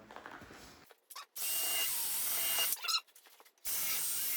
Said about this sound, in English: we're going to go ahead and pre-drill our holes